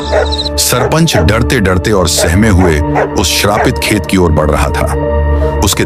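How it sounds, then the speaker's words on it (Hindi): Village dogs bark and yelp continuously in the background while someone narrates steadily over them. "गांव के कुत्ते भी लगातार भौंक रहे"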